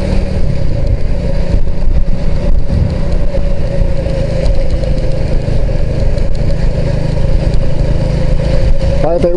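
A mini bike's engine drones steadily while riding, loud and close with a constant mid-pitched hum and occasional wind buffeting, over road noise.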